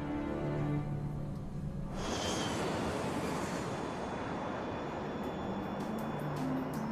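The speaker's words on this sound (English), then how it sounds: "Qantas 32 lifts off right on schedule" Qantas Airbus A380 on its takeoff roll, a low engine hum that suddenly surges into a broad, steady roar and stays loud to the end, heard without speech.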